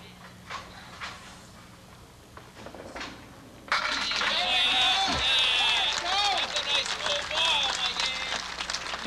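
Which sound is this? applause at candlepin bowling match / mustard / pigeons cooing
applause at candlepin bowling match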